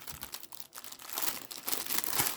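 Packaging crinkles and crumples in bursts during a craft unboxing of vintage lace goods, close and fairly loud, rising in intensity toward the end with no talking.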